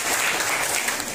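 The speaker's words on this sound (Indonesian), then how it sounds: "Kita aplaus dia." A classroom claps for a student called to the front, brief dense applause from many hands that stays even and close throughout, with no talking over it.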